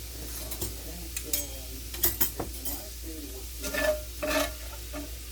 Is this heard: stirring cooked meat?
yes